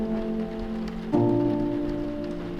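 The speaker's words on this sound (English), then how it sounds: "Nine o'clock, pouring rain." Pouring rain at night in Old Port, Montreal, a steady hiss of rainfall on surfaces with a constant tonal hum underneath that shifts slightly midway.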